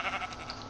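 Sheep bleating in the Minecraft video game, a short synthesized animal cry repeating in quick pulses, fairly loud and close with no talk over it.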